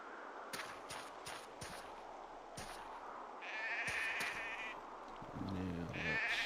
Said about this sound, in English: So there's the goats.